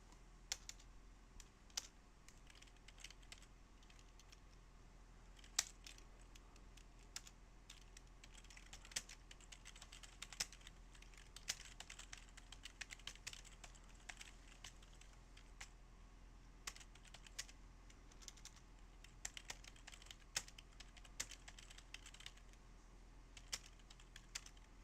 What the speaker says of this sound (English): So let me just type it here.